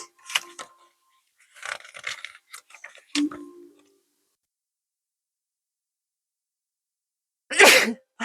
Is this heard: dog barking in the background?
no